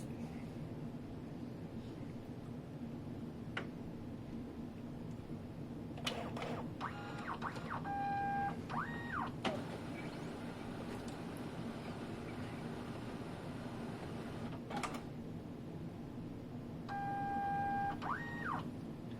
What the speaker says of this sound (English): The machine is turning on right now, so it's going to take about a minute.